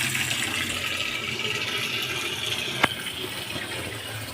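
A plumber's faucet runs in a steady, hissing stream that stays even throughout, with one sharp click partway through and no voices.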